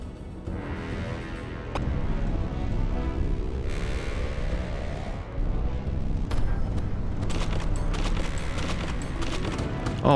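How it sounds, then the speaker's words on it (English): Laser weapons fire in a space pirate ship battle in the game Void Sails, a dense stream of zapping shots and booming impacts rolling continuously over a rumbling low bed, loud and busy throughout. "let's try to get him with the lasers here"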